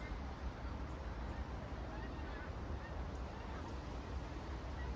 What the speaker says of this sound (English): looks like the geese are flying south for winter